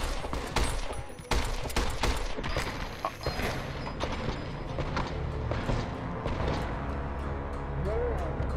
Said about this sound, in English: Oh, now you're turning shooting at me again.